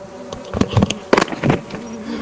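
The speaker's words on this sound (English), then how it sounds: "We didn't even get killed by like a monster or anything, we just got killed by bees." Bees buzzing in the video game Lethal Company, a few short loud bursts of droning hum in quick succession over a low background, with no talk.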